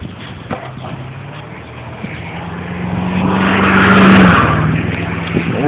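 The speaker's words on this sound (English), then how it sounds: "See two trucks pulling out with plows." Pickup trucks fitted with snow plows pull out and drive through deep snow in a blizzard in New Britain, their engine noise rising to a loud, close pass with a brief high tire whine before easing off, under steady wind-like roar.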